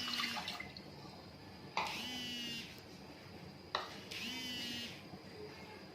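Water poured into a cooking pan while making jelly for a fruit trifle, in a few separate splashy pours, each rising in pitch as the pan fills, with no talking.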